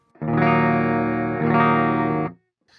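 Two sustained electric guitar chords strummed through the clean channel of a PRS MT15 amplifier, ringing loud and full with a slight grit, then cutting off.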